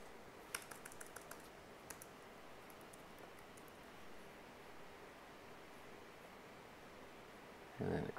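Typing a default password into a computer login for an HPE 3PAR SSMC setup: a few faint, scattered keystroke clicks early on over a steady background hiss, then quiet until a louder thump near the end.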